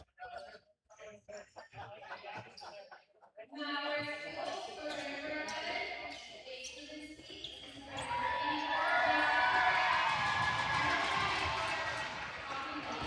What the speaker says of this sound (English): That's the Mavericks bench cheering Dolinsky, who has sniped another here for the Mavericks